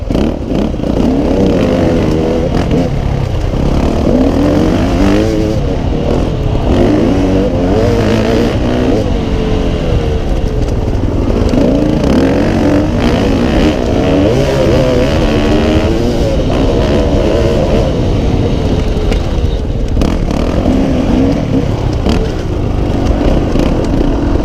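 A YZ450F or KTM 300 XC dirt bike engine roars and revs continuously on a sagebrush singletrack enduro trail, loud and close throughout with rising and falling throttle and no talking.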